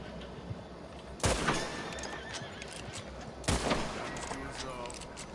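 A horse in Red Dead Redemption 2 neighs twice, each loud whinny about two seconds apart, over a low game ambience.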